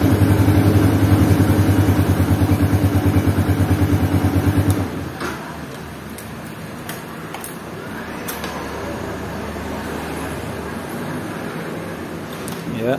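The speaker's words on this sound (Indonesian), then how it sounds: "Sekali selah langsung nyala." A 2008 Yamaha Vixion Old 3C1 motorcycle engine, fresh spark plug fitted, runs after a kick start: a steady, close, loud idle rumble for about five seconds, then it cuts off, leaving quieter background noise.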